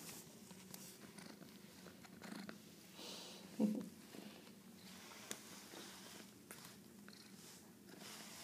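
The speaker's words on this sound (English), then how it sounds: "there's a little bit of a purr." A soft, continuous low purr from a cat close by, with light rustling and shuffling noises over it.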